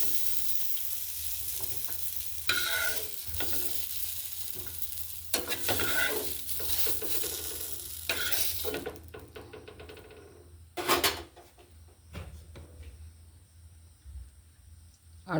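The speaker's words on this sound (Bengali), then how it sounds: "এবার ঢ্যাঁড়সগুলোকে ভেজে নিচ্ছি।" Okra frying in a pan with turmeric and salt, a close crackling sizzle broken by repeated bursts of stirring and scraping, thinning to quieter sputters and a few knocks toward the end.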